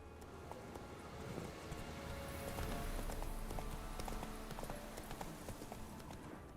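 Roach, the horse in The Witcher 3, gallops with a steady, rhythmic clip-clop of hooves that swells slightly and holds, with faint ambient wind behind.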